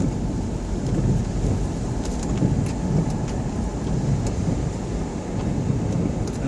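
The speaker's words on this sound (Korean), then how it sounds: "밖에 비가 오고 있기 때문에" Steady rain hisses constantly throughout, a dense, even wash of noise with faint rumbling underneath, heard from inside a car at Namhansanseong fortress, South Korea.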